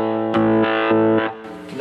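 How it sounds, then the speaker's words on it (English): An electric guitar plays overdriven notes through a ToadWorks Roundabout Turbo looper with a Little Leo distortion and Pipeline vibrato pedal, heard as a few sustained, loud, distorted chord strikes with a wavering tone. "we've got our Little Leo distortion for overdrive"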